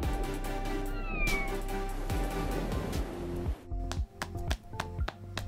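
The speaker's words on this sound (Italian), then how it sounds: "Ok, puoi avere il tuo gatto." A cat meows in a toy cartoon with dolls, the calls rising clearly over steady background music, with several short bursts through the middle and later part.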